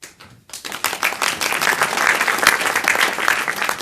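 Audience applause at an improv comedy stage show, starting abruptly after a brief quiet moment and building into dense, lively clapping from a crowd that carries on steadily.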